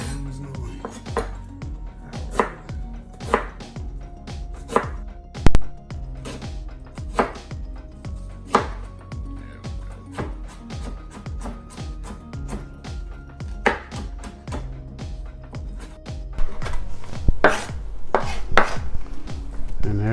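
A knife chops an onion on a board for pico de gallo, a fast irregular run of crisp knocks, close and loud, with occasional brief talk and a busier stretch near the end.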